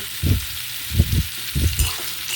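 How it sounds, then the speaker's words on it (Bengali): Boiled young jackfruit pieces frying in hot oil with a little salt, a close, steady sizzle broken by several soft stirring or turning thumps in an uneven rhythm. "এঁচোড়ের মধ্যে সামান্য নুন দিয়ে লাল লাল করে আমি এঁচোড়টাকে ভেজে নেব"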